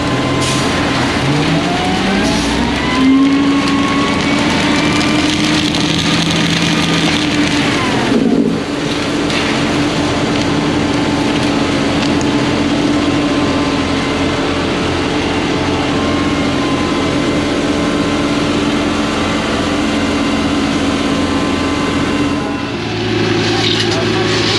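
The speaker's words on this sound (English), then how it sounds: "They're laying out some asphalt." A diesel engine on an asphalt paver runs steadily while asphalt is laid in a parking lot, with a dump truck backing in. The drone stays loud and continuous, shifts pitch near the middle and end, and voices talk faintly in the background.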